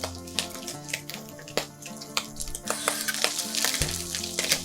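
Mushrooms hitting a pan of frying bacon, onion and garlic for carbonara sauce, loud crackling sizzle with bursts of sharp pops and spatter, building in intensity, close up and without talk.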